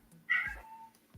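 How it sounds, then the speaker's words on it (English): A house cat gives a single short, clear meow close to the microphone amid a quiet room with faint low background sounds. "that was my cat"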